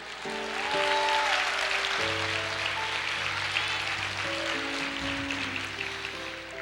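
Congregation applause in a church service, a steady wash of clapping running throughout, with sustained organ or keyboard chords over it.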